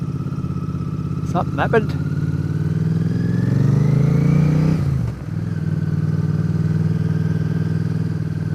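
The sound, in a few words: motorcycles riding past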